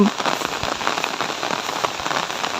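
Steady rain falls on a garden of freshly planted crops and soaked soil, a dense, continuous patter of drops hitting the ground and leaves with no voices.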